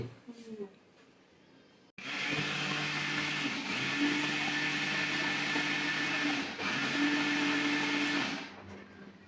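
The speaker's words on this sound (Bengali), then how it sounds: "তো সে হলে ব্লেন্ড করতেছে দেখি" An electric blender starts abruptly and runs loud and steady for about six seconds, a dense whirring roar with a slight pitch shift midway, then stops; brief talk comes before and after it.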